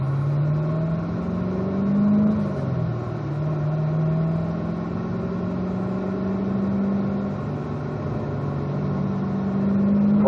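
A car engine hums steadily from inside the cabin as the car pulls onto a race track, with a rising and falling drone and a gentle build in revs toward the end.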